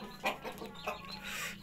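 An Ayam Cemani hen, a black-tongued breeding hen, clucks a few soft times up close on a village farm in Kedu, with low murmuring background noise.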